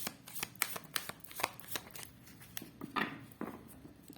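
Tarot cards drawn from a deck during a pick-a-card divination reading: a string of crisp card snaps and slides in irregular rhythm, close and fairly quiet, with no talking.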